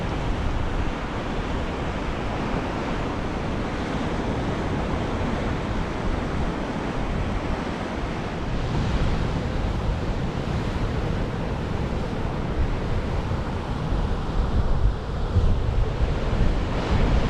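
Atlantic Ocean waves crash against the headland at Hartland Quay in a steady, loud roar of surf with wind buffeting the microphone throughout, no voices.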